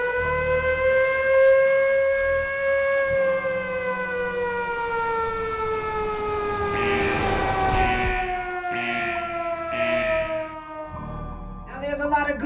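A loud siren wails steadily with sliding, slowly falling tones, fairly near, while bursts of noise break in over it toward the end.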